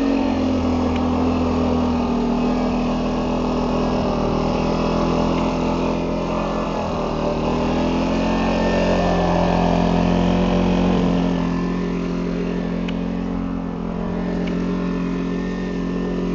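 A small petrol generator runs steadily on a home-built ultralight airship gondola after a choke start, a loud, continuous droning engine note with a low hum, holding constant throughout with no talk over it.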